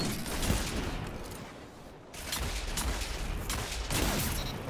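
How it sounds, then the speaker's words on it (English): Rapid gunfire from a Destiny 2 match, dense bursts of shots continuing almost throughout with a short lull in the middle, fairly close and steady in level. "Just putting some shots down middle here, building up some stacks."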